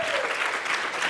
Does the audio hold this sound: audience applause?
yes